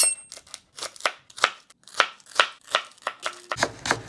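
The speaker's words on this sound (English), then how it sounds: "we're gonna start off by cutting up 5 pieces of Okra" A knife chops steadily through five okra pods on a board, a run of sharp, evenly spaced cuts heard up close with no talking.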